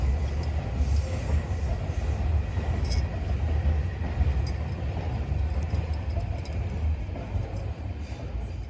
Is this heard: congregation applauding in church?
no